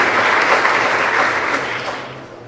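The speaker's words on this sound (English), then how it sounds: "we give one more round of applause for Braden Saleh" An audience at a high school winter sports awards ceremony claps in a steady burst of applause that fills the room, then gradually fades toward the end.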